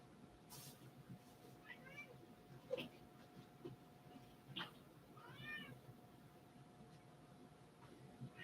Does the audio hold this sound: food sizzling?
no